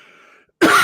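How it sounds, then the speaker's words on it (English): A man gives a single loud, harsh cough close to the microphone, following a brief stretch of faint, quiet sound. "I feel like I got"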